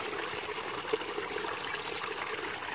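Water drains from a rice paddy as the grain begins to yellow, a soft, steady trickle heard faintly and close by, with no voices.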